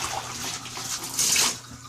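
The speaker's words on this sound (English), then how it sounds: "I will dump the dirty water" Dirty cloth diaper wash water pours out into a bathtub in a steady splashing rush that surges louder briefly, close by, with no talking.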